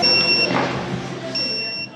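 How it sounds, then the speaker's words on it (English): Electronic beep in a cafe kitchen in Trinidad and Tobago signalling an order of food is ready: a steady high tone sounds, pauses, then returns, over background chatter and kitchen noise. "There goes the beep."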